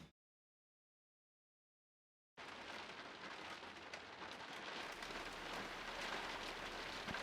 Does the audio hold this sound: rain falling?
yes